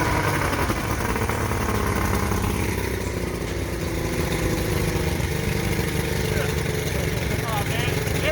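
An engine idles steadily after being started, a constant low mechanical rumble running through the whole stretch, with people talking over it.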